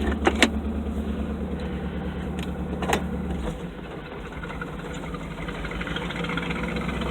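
A $700 Chevrolet K5 Blazer rumbles along a dirt trail in 4-wheel low, a close, steady low engine drone with a few clanks and knocks early on, and no talking.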